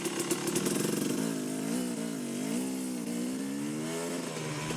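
A KTM 250/300 two-stroke dirt bike fitted with a Rekluse RadiusX auto clutch revs loudly and steadily up close, its engine pitch rising and falling as it shifts from first into second gear without the clutch.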